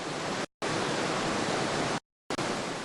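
Rushing floodwaters of the Río Negro during heavy rains, a steady, loud broadband roar like a torrent, interrupted by two brief cuts to silence.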